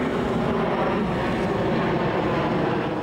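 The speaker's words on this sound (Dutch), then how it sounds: "Dit vliegtuig is nu vlakbij." An airplane passes low over Vondelpark near Schiphol, a loud, steady broadband engine roar that fills the whole stretch without pause.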